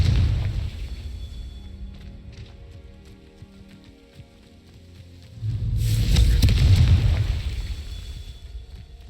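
A Confringo fire spell bursts in the wizarding game Hogwarts Legacy, a deep rumbling blast that swells and roars for a few seconds after a quieter crackling stretch, with no talking.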